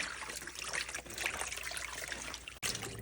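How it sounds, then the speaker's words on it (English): Running water trickles and splashes steadily while beef tripe for menudo is washed by hand, a continuous close, fairly soft wash of liquid with a brief dip near the end. "we are going to wash our menudo until it looks clean"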